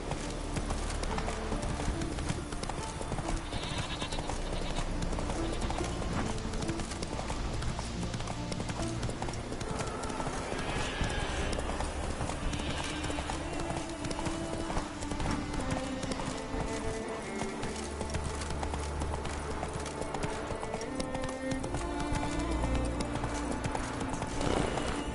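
Roach the horse gallops in The Witcher, a steady rhythmic clip-clop of hooves running through a dense, loud game soundscape with music and ambient layers throughout.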